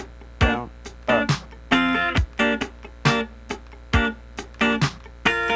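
Funk rhythm guitar pattern played slowly, clean percussive strums with sharp muted scratches in an up-down rhythm, several accented hits spaced across the bar, close and moderately loud with no talking.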